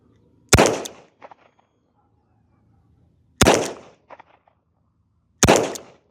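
Three loud, sharp gunshots from a Chiappa Rhino revolver fired double-action, spaced about two and a half seconds apart, each a sudden blast with a short decaying tail and brief clatter after it.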